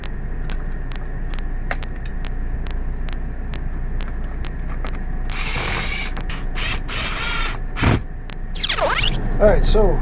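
A screw is driven into a thermostat mounting kit for an RV thermostat: a rapid, even train of clicking ratchet ticks, then louder rustling and scraping handling noises and a sharp swish near the end.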